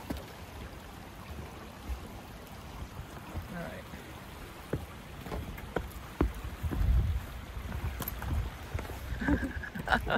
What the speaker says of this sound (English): I love the sound of the beech tree leaves.